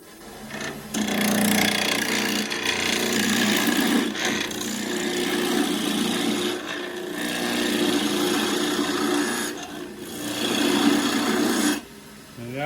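Skew chisel cutting loquat wood spinning on a lathe while a beaded spatula is shaped: a loud, raspy continuous scraping in long passes, with brief pauses between cuts.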